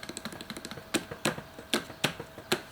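A 2-by-2-foot sheet of foam is cut in half in a workshop building a Subaru-engined vintage Porsche's cooling system. Quick light scraping strokes come first, then louder, evenly spaced crunchy cuts, close up with no talking.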